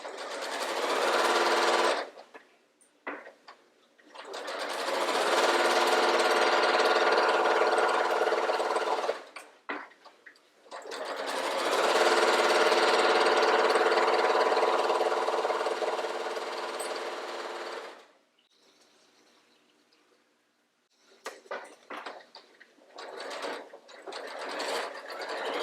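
A sewing machine stitches a quilt block in long continuous bursts with short pauses between them, close and loud, with no talking.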